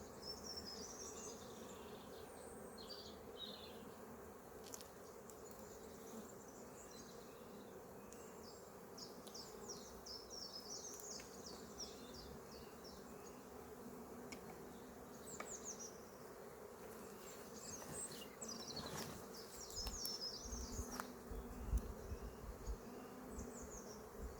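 Honeybees hum and buzz steadily during a spring inspection of an open hive colony, a dense close swarm drone with individual bees whining past, continuous and alone with no talk.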